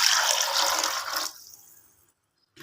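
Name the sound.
water poured into pressure cooker with rice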